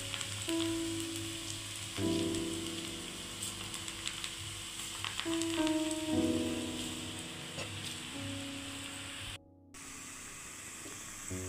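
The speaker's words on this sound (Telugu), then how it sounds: "డీప్ ఫ్రైకి సరిపడా ఆయిల్ వేసుకుని నూనె వేడెక్కిన తర్వాత ఇట్లా కొంచెం వేసుకోవాలి." Amaranth leaf pakoda batter deep frying in hot oil gives a quiet, steady sizzle and crackle, rain-like and unbroken, with a faint low hum beneath and no talking.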